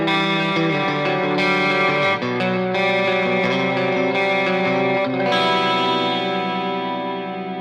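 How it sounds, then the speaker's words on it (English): An electric guitar on its bridge humbucker runs through a plugin chain of chorus, reverb and delay, ringing chords and sustained notes with shimmering, echoing tails, played alone and fading out at the end. "We have the chorus, and then we have reverb, and then we have delay."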